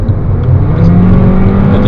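A 2009 Honda Civic EX GT with a 1.8 i-VTEC engine and automatic gearbox revving under way, a loud, close, sustained droning engine note with steady harmonics heard from inside the car.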